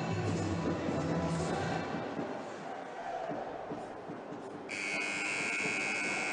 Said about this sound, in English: at the end of the second period, the buzzer goes